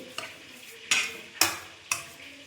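A homemade wine mixture with added sugar being stirred in a vessel, four distinct scraping strokes at roughly half-second intervals, close and clear with no voices.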